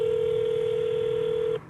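A telephone line tone sounds as a call is placed to an internet phone number with a 314 area code, one steady unbroken beep held close and clear before it cuts off abruptly.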